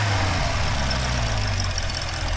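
A Lamborghini's 4-liter V8 idles with a steady, deep rumble, heard loud and close without talk over it.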